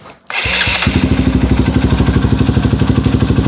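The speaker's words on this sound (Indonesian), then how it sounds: "Ya, sekarang kita hidupin mesinnya ya," A Honda motorcycle engine is started after a brief quiet moment, then settles into a loud, close, steady idle with a quick, even pulsing beat throughout.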